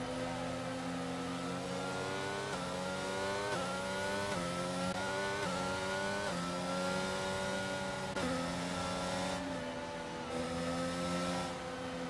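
A race car engine revs and shifts in a sim racing game set at the Italian Grand Prix, with loud, continuous high-pitched tones climbing then dropping at each gear change, running alone with no talk.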